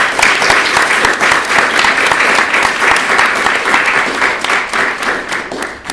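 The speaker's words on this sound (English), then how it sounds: "Let's give them another round of applause." A loud, sustained round of applause from a symposium audience at an ICLS 20th anniversary event, many hands clapping in a thick steady texture that holds strong before easing slightly at the end.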